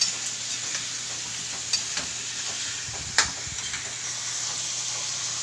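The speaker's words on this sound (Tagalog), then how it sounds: "Haluin lang po natin siya" Pechay and chopsuey vegetables frying in a pan give a steady sizzling hiss, with a few sharp utensil scrapes and clinks as they are stirred, close by with no voices.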